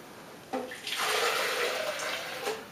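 Hot water pours steadily into a container for about two seconds, a soft splashing rush close by, beginning with a brief clink.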